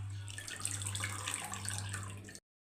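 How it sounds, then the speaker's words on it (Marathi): Fenugreek leaves washed under a running kitchen tap, with a continuous splash and gurgle of water and a low steady hum beneath, cutting off abruptly near the end. "भाजी चांगली धुवून घ्या, सकाळी करायची आहे म्हणून मी आता धुवून ठेवते"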